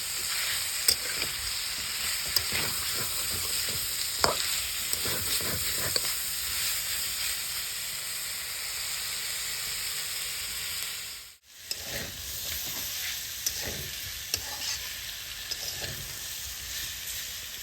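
Onions frying in hot oil for an Assamese pork dry fry, a steady loud hiss and sizzle with occasional crackles and stirring scrapes, briefly cut off near the end, with no talking.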